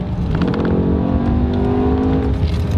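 A BMW E60 M5 with its V10 engine accelerating on a wet road, a loud, close, rising engine roar with strong rumbling harmonics climbing steadily throughout, heard from inside the car.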